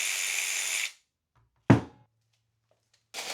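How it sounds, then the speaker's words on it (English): A drill-mounted metal shear cutting welded wire mesh whirs briefly, stops, then a single sharp metallic clunk rings out in silence before the tool starts up again. "To cut the wire mesh, I'll be using a drill-mounted metal shear attachment."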